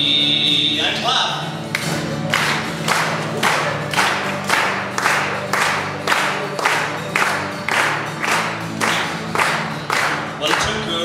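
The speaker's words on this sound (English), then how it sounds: "And clap." An audience claps in unison, a steady rhythmic beat of loud, sharp hand claps repeating about twice per second for several seconds, with crowd noise underneath.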